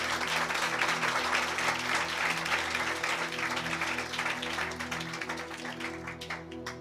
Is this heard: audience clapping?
yes